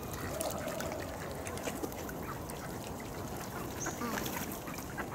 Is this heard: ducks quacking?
yes